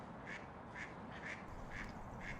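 Ducks on water near a mink's den quack in a steady, evenly spaced series of five calls, moderately distant over a constant background hiss.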